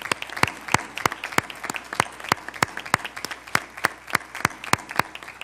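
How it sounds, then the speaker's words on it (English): Applause from an audience at a Board of Education meeting, a dense wash of many hands clapping with crisp sharp peaks standing out, steady and fairly loud throughout with no talking. "Let's stand up and give them a great round of applause."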